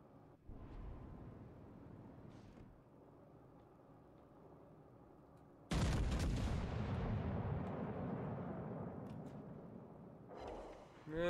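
Warship gunfire in World of Warships Legends naval combat. A faint muffled boom is followed later by a sudden loud cannon blast that rumbles and slowly fades, then another burst near the end.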